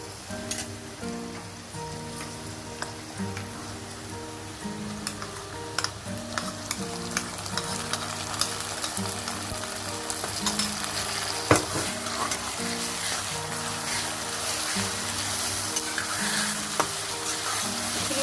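Ginger-garlic paste sizzles with onions in a pan for a home-style chicken curry, stirred steadily. A continuous, fairly loud frying hiss runs throughout, with repeated scraping strokes and no talking.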